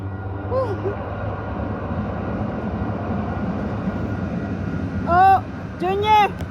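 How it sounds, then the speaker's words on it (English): A train rumbles past in a low, steady drone that fills the whole stretch, while seagulls nearby let out a couple of sharp, loud calls near the end. "Oh, Junior, the train, the train."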